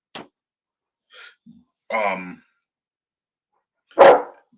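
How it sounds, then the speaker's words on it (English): An indoor dog barks a few times, with sharp isolated woofs spaced irregularly and one louder bark near the end, heard nearby in an otherwise quiet room with no talking over it. "now my dog's going to bark"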